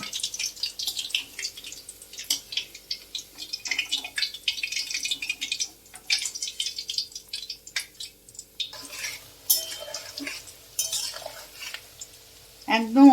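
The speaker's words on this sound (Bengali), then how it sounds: "এইভাবে ভেজে নিতে হবে।" Chicken pakora frying in oil over low heat, a close crackling sizzle with bubbling and occasional utensil clinks and scrapes against the pan, steady throughout with no voices.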